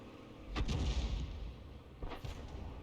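An M41 HMC fires artillery rounds in a tank video game: two heavy booming blasts about a second and a half apart, each trailing a short rumbling decay, with no talking.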